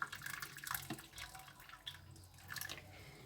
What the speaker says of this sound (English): you would wanna fill in a container with warm water or boiled water